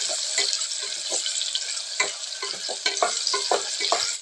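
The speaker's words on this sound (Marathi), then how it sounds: "कांदा चांगला आपण तुपामध्ये मऊ होईपर्यंत आपण चांगला भरून घ्यायचा" Onion fries in ghee with a bright, constant sizzle, punctuated by irregular scrapes and clacks of a spoon stirring the pan, close and loud with no talking.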